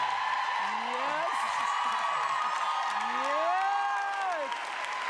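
A studio audience at a talk show applauds and cheers steadily under voices, with the crowd noise staying dense and even throughout.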